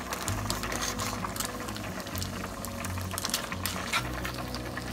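Spaghetti going into a pan of boiling water, with a continuous bubbling, rolling boil and brief clattering taps close by.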